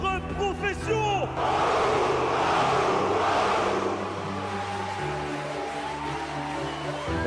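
Arena crowd at the opening ceremony of the 2017 EU LCS Summer Finals esports event in Paris roars and cheers with loud shouts and whoops, swelling, then settling into a sustained din with people talking nearby.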